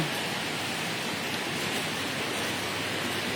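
Heavy morning rain pours down around a rural Thai home, a steady, loud, even hiss with no breaks and no voices.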